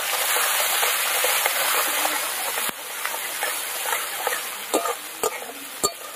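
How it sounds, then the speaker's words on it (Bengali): Chopped onions frying hard in oil with sugar, bay leaves, dried red chillies and whole garam masala for a lemon-chilli chicken curry: a loud, steady sizzle with occasional sharp clicks of a spatula stirring the pan. "পেঁয়াজটা এবার ভালো করে একদম ভেজে নেব।"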